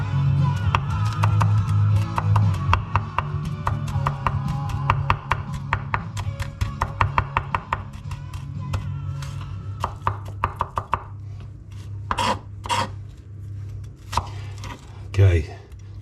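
A knife chops vegetables for roasting on a board, first in quick, loud, rhythmic strokes, then in slower, scattered taps that thin out toward the end.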